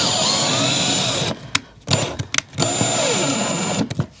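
Cordless power drill driving screws into a wooden shed floor, loud whining bursts of several seconds broken by short pauses and clunks, close to the ear.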